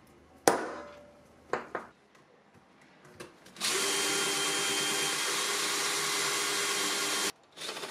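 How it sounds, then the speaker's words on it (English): A hand drill bores a large hole while engraving a hammer: a steady, loud drilling whine runs for several seconds after a few sharp knocks and clatters, then stops abruptly. "drilling this size of a hole with a hand drill"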